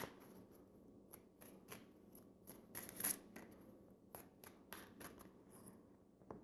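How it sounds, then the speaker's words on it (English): Tarot cards are cut and handled in a quiet room, producing soft, repeated papery slides and taps at an uneven rhythm, faint and close, with no talking. "I'm going to cut the deck"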